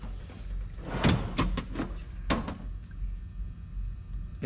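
A drawer in a storage cabinet of hose fittings and flanges slides open with a few short scraping and knocking sounds, close and moderately quiet.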